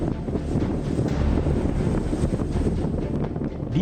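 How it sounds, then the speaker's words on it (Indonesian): Strong wind at sea gusting to about 25 knots, with waves around one metre high, roars steadily and loudly across a microphone throughout, with no voices. "kondisi cuaca memang angin kencang dan ombak ada sekitar 1 meter ya."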